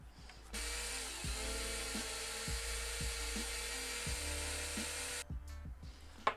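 Power tool enlarging a hole in a turn signal housing, a steady high whine lasting several seconds with regular dips in pitch as it bites into the material, close and fairly quiet, no talk.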